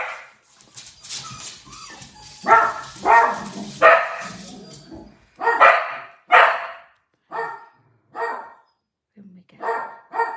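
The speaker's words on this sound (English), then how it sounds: "That's Benji, because John's just pulled up in the drive" A dog barks in repeated sharp bursts with some whimpering yips as a car pulls into the driveway, fairly close and loud, with voices talking between the barks.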